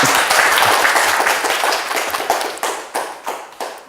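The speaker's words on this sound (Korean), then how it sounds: "박수 한번 칠까요?" A crowd claps steadily, the applause thinning toward the end into a few separate, louder individual claps.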